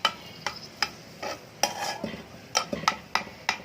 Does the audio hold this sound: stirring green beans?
yes